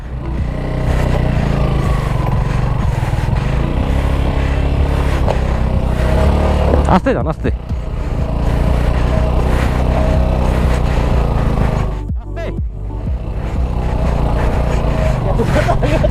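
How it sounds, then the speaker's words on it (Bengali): A motorcycle strains up a steep hill near Tindu, its engine loud and continuous with revving surges and scraping, while people shout instructions over it. "আশিফার বাইক উঠছে এবার মাসুদের"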